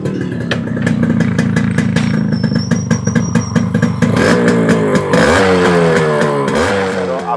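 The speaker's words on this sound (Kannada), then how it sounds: "ಇಂಜಿನ್ ಸ್ಟಾರ್ಟ್ ಮಾಡಿ ಸೌಂಡ್ ಎಲ್ಲ ಇಂಜಿನ್ನಲ್ಲಿ" A Yamaha RX two-stroke motorcycle engine runs close and loud with a rapid, buzzy putter, then revs up sharply partway through and keeps climbing and falling with throttle blips.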